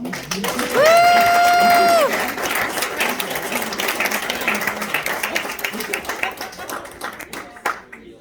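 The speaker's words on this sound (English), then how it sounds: "So now you can do a round of applause." A crowd at an awards gathering applauds loudly and continuously, with dense clapping, a sustained whistle early on and a few voices mixed in before it thins out near the end.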